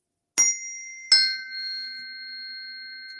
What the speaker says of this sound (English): these frequency forks